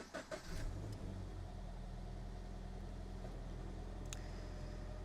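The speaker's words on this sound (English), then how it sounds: "Let's fire it up so you can hear it running." A 2013 Toyota GT86 engine cranks and catches with a short burst of revving, then settles into a steady low idle hum that runs on alone.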